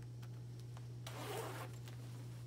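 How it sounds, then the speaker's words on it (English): A zipper on the front of a lined, embroidered velvet jacket is drawn up in one short, quiet rasping pull over a steady low hum. "it zips up the front, so if you wanna zip it"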